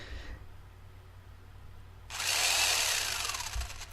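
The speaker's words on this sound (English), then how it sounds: "We get our little drill sound" Little drill sound in an Unreal Engine 4 farming game prototype, a bright buzzing whir that starts abruptly partway through after near silence and holds steady to the end.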